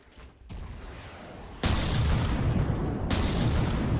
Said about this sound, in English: Look at all those missiles slamming into it.